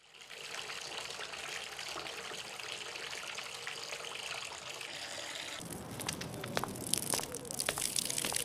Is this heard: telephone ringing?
no